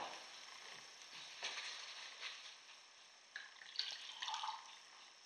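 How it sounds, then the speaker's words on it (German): Wine poured from a bottle into a glass during a restaurant service demonstration, a soft quiet trickle and splashing with a few dripping bursts, heard alone against a faint background hiss. "Als nächsten Schritt schenken wir etwas Wein ab."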